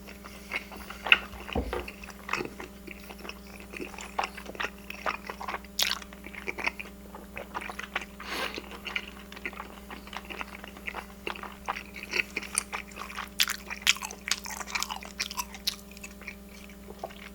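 Close-up chewing of honey fried chicken, soy sauce chicken and spicy tteokbokki, a continuous run of crunchy bites and wet squishy mastication over a steady low hum.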